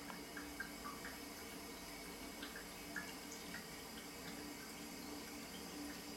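Cooling water runs through the cooler of a 50-litre moonshine still set up for fractional distillation, a faint, steady trickle and gurgle like a running tap with small drips, alone without speech.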